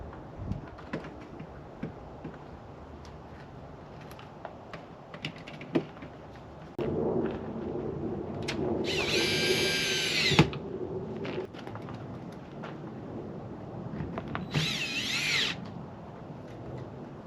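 A power drill drives the supplied screws to mount a backup camera on a camper, with two short, loud, high whirring bursts over quieter handling and tool noise. No one speaks.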